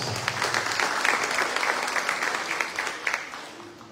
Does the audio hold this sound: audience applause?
yes